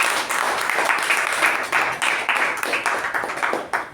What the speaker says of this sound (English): Give table topic master a big round of applause.